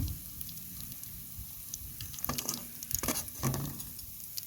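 KFC-style fish deep-frying in hot oil gives a low, steady bubbling sizzle, followed near the end by a cluster of clinks and splashy crackles as pieces are moved or added, fairly quiet overall with no talk.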